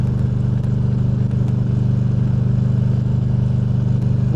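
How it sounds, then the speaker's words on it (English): Motorcycle riding, captured by an Insta360 Air mic inside the rider's helmet with a furry windscreen, a loud, steady low engine drone with a pulsing rhythm, muffled and close, plus a faint wind hiss. "Can you hear the motorcycle?"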